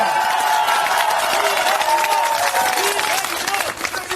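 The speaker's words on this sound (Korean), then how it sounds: "박수 부탁드리겠습니다." Political rally crowd applauding and cheering a candidate's introduction, a loud sustained mass of clapping with shouts and voices mixed in, tapering slightly at the close.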